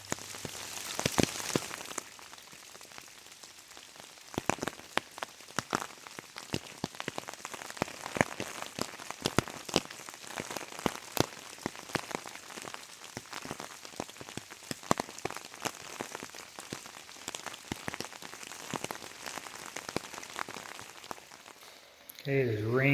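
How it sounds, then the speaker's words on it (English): Steady rain patters and spatters on an outdoor surface near off-grid rain barrels, a dense crackling hiss of drops lasting throughout, with a brief louder knock at the very end. "it is raining"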